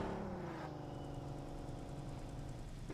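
A car engine in a mobile shooter game runs at a steady mid-pitched idle and rev, loud and continuous throughout with no talk.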